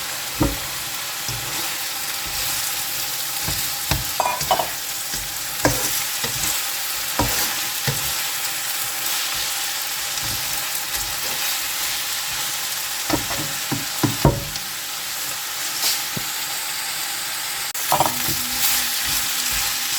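Boiled chicken and pork sizzling steadily in a pan, a constant hiss of frying broken by frequent sharp scrapes and knocks as the meat is stirred.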